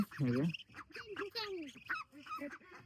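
Muscovy ducks give a loud burst of harsh, honking calls up close, followed by quieter squawks and chatter mixed in with a person talking nearby.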